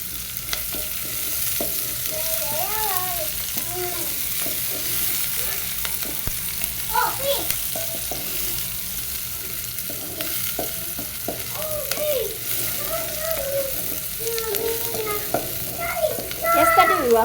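Githeri sizzling and frying in a pot while it is stirred over high heat, a steady crackle with scraping strokes throughout, plus occasional faint voices and household sounds in the background.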